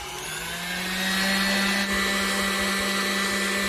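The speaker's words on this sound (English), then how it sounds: "All right, let's turn it back up on high." An electric mixer whirs steadily on high speed while whipping cream into homemade butter, a constant loud motor hum with a high whine that holds throughout.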